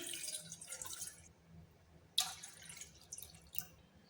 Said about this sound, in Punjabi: ਇਹਦੇ ਵਿੱਚ ਪਾ ਦੇਣੀ ਆਪਾਂ ਆਪਣੇ ਡੇਢ ਕੋਲੀ ਪਾਣੀ ਦੀ